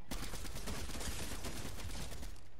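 Gunfire in a video game comes as rapid, continuous bursts of shots that blend into a steady rattling fusillade, fairly faint and without pauses.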